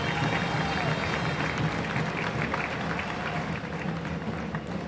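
Audience applause at an inauguration in Neuquén, a steady ripple of clapping from a crowd that holds at an even level throughout, with no speech over it.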